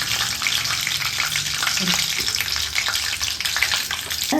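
Cumin seeds fry in hot oil for a bisi bele bath tempering, giving a dense, steady crackling sizzle that stays loud and close for the whole stretch, with no voices over it.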